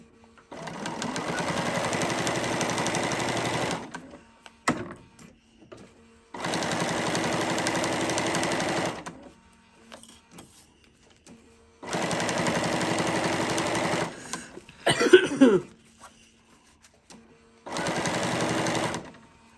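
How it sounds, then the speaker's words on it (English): A Bernina sewing machine stitches around the edge of a mermaid tail blanket and over a seam, running in four loud, steady bursts separated by short pauses, with a brief rustle of handling in between. "Bernina stitched right over it like it wasn't nothing."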